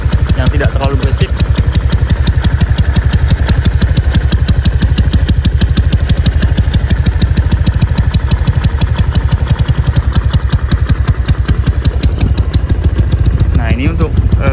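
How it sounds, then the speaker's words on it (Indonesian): A Honda Vario 200 cc scooter-style motorcycle idles close by, its exhaust putting out a loud, rapid, even putter that runs steadily throughout. "Jadi saya lebih suka untuk suara knalpot yang seperti ini, yang tidak terlalu basic."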